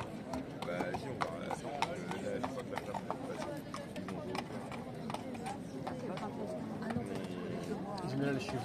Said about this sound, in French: Là, les chevaux, dans mon dos.